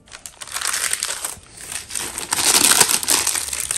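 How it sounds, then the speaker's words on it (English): Close, continuous crinkling of baking (wax) paper being handled, with bursts of crackling that swell louder toward the end. "Baking paper, the wax paper, I call it a wax paper."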